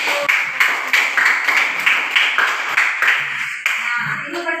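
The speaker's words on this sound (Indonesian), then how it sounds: "tepuk tangan dulu untuk" Hand clapping in a classroom lesson, a run of distinct, evenly spaced claps in a steady rhythm, fairly close and moderately loud, ending with a few faint voiced sounds.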